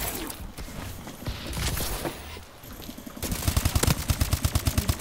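Gunfire in Call of Duty Advanced Warfare multiplayer Kill Confirmed mode, with scattered shots and game effects at first, then a rapid, loud burst of automatic fire with evenly spaced reports.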